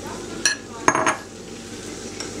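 Eggs being whisked into milk in a bowl for a baked pasta dish, a few sharp metallic clinks of the utensil against the bowl, close and irregular over a quiet kitchen background.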